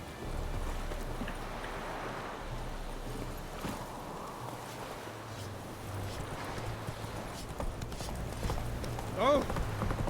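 Horse hooves clip-clop steadily at a walking pace through the whole stretch in The Witcher 3, set against low ambient game sound, with a brief voice rising near the end.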